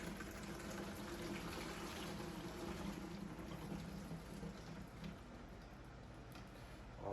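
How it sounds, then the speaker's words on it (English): Murky, dirty bong water pours steadily into a container, a continuous splashing, gurgling stream close by with no talking over it. "we're going to go ahead and pour in the contents of this bong inside of this container"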